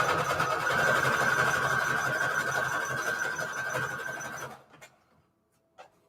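A sewing machine stitches a hexagon patchwork junk journal in a steady whirring run that stops after about four seconds, followed by a few faint clicks and handling noises.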